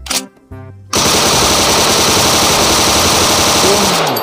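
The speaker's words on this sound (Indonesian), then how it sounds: "Di sini ada senjata M4 gun." A toy M4 assault rifle fires a sustained, loud rapid burst of mechanical gunfire sounds after a couple of brief electronic beeps, continuing steadily to the end.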